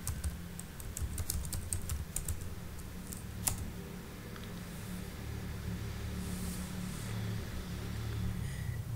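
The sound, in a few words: typing on a computer keyboard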